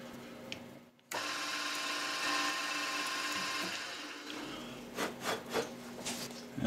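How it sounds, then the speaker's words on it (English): A milling machine cuts metal as the quill is fed down to finish an outer diameter against a depth stop, giving a steady, fairly loud grinding whir that starts abruptly after a brief pause and ends in several pulsing bursts. "for these last few cuts, to finish the outer diameter, I'm just feeding down with the Quill"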